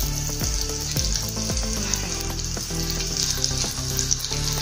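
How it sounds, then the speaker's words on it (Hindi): Cumin seeds crackle and sizzle in one spoonful of hot oil inside a clay cooking pot, a steady close frying hiss with scattered sharp pops and occasional stirring knocks, no voices. "तेल गरम हो गया। अभी जीरा डालेंगे इसमें"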